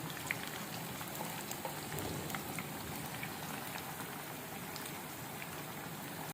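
Besan-coated Lahori fish fries in hot oil, a steady dense sizzle with scattered crackles and pops running evenly throughout, fairly close and continuous with no talk.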